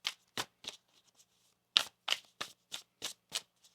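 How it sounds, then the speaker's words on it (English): Tarot or oracle cards riffle-shuffled by hand during a reading, giving a rapid series of about ten crisp, papery bursts in an uneven rhythm, close and fairly quiet with no talking. "One more shuffle here."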